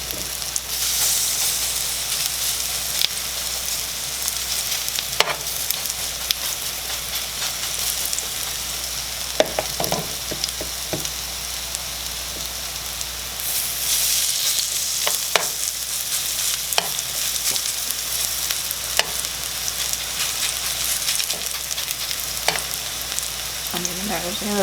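A second batch of zucchini fritters fries in a pan on a stovetop, giving a continuous loud hissing sizzle throughout with occasional faint clinks and crackles.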